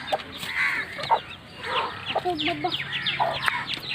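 A hen and her chicks cluck and chirp repeatedly at close range over a busy farmyard background, with short high calls scattered throughout.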